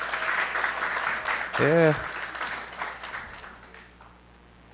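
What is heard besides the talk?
applause for graduating students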